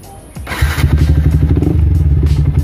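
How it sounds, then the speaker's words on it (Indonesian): Motorcycle started with the ignition key: a thump of the starter, then the engine catches into a loud, close, steady idle. "kita coba pasang kunci kontak dulu teman-teman dan kita satar ya teman-teman"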